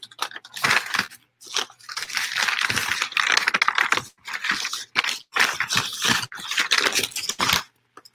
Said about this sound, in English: I am shuffling through paper